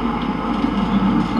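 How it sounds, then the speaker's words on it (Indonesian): A train in the horror zoo video game Zoochosis, heard as a steady, loud low rumble of rolling railcars with faint rattling, continuous for the whole moment and alone without speech. "Ini kereta"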